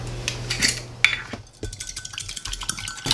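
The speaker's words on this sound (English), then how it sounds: "I am going to crack another egg in here and whisk it up also." An egg is cracked against a bowl and whisked for savory waffle batter in a home kitchen, with sharp clicks of shell on the rim, then quick irregular clinks and taps of the whisk against the dish, close and moderately loud.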